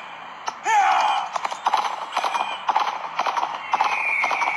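In a Western video game, an Arabian horse gives a brief whinny, then its hooves clip-clop in a quick, steady rhythm, loud and close, with a faint tonal game sound running over part of it.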